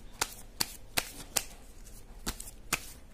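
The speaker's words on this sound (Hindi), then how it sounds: "थोड़ा सा और शफल करेंगे।" Tarot cards are shuffled, with about seven sharp, quiet snaps spaced irregularly over a few seconds against a soft background.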